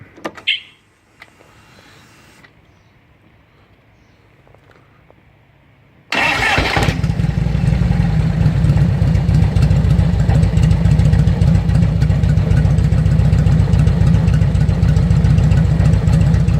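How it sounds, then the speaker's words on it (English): A Harley-Davidson Road King motorcycle sits quiet with faint clicks, then at about six seconds the engine cranks and fires, settling into a loud, steady, throbbing idle close by. "let me start it up"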